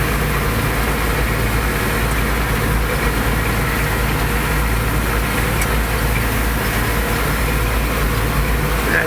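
Pequea TT 4100 hay tedder pulled by a tractor through a hayfield, giving a steady, loud engine-and-machinery drone that holds unbroken from start to finish.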